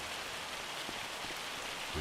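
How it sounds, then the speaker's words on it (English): Hail comes down in a dense, steady patter of countless small impacts, a faint, even hiss with no gaps and no voices. "Coming down is hail."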